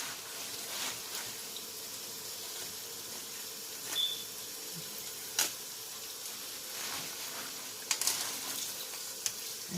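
Tap water runs into a kitchen sink holding salted mustard greens, a steady soft rushing hiss with a few faint splashes and knocks scattered through it.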